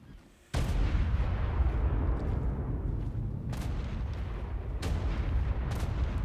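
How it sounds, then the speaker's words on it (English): A huge explosion in the video game Ark, a sudden heavy blast followed by a sustained rumbling roar that keeps going, with occasional sharper crackles breaking through, loud and continuous. "that is the mother of all explosions"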